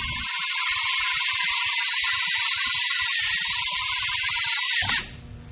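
A drill bit bores through metal lubricated with cutting fluid, a loud steady high whine holding for about five seconds before cutting off abruptly as the bit breaks through, with faint low knocks underneath.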